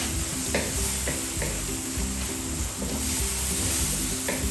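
Fish in a spinach and tomato sauce is stirred in a pan, with repeated scraping strokes at a steady pace over a continuous loud sizzle and bubbling, close up and without speech.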